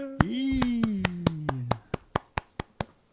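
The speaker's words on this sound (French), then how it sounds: "je t'applaudis toi aussi" About a dozen crisp hand claps in a steady, even rhythm, the first ones under a sustained, slowly falling voice and the last few ringing out alone, close and clear.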